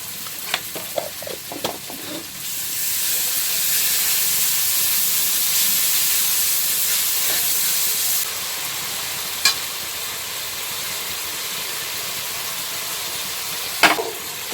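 Ginger paste hits hot oil for a fish-head curry with Malabar spinach. After a few clinks, a loud, steady sizzle begins, then drops to a softer fry, with occasional utensil taps.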